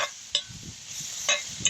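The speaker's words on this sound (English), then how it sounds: "And now, you can hear I got my sizzle back." Vegetables with lots of garlic sizzle steadily in a hot pan at a campsite, a constant crackling hiss with a few sharp clicks of a utensil against the pan.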